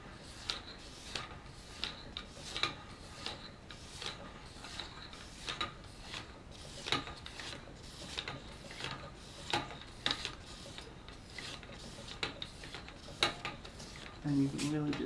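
A straight razor polished on the 2000 grit stone of a sharpening system, heard as a steady series of short, crisp scraping strokes repeating about every half second, close and fairly quiet, with a faint clunk at the end.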